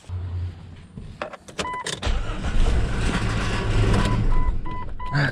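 A Jeep with a recurring fuel pump fault cranks briefly after a whirring pump prime, then catches and idles unevenly, the engine note wavering and rough for several seconds, close and fairly loud.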